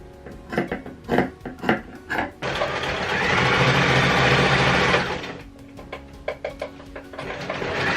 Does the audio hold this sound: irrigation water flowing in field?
no